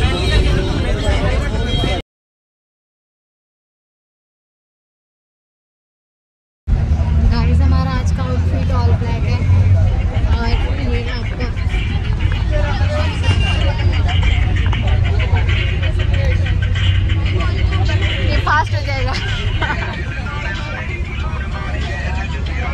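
Road traffic in Sector 17 gives a continuous, loud wash of engines and horns with crowd babble. It opens with a short burst, falls silent for a few seconds, then goes on steadily.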